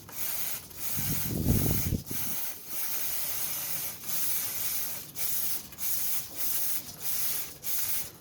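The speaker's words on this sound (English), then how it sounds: "let's get some more of this cleaner on there now" Chain cleaner sprayed onto a Honda CBR500R motorcycle chain: a series of short, close aerosol hisses in a regular rhythm, with a duller rumble early on.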